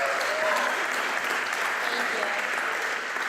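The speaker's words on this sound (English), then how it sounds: "Let's give a round of applause to Anastasia" An audience applauds a guest co-founder at a startup event, a full, even roar of many hands clapping without pause.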